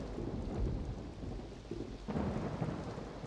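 Steady rain with rolling thunder in Roller Coaster Tycoon 3, a dense low rumble that swells again near the end, with no voices.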